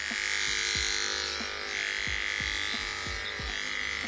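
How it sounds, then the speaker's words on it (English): Electric hair clipper cutting hair with a number 2 guard during a taper cut, a steady close buzz running throughout with repeated short strokes through the hair. "comb it through and follow with the clipper, and it'll pick everything up"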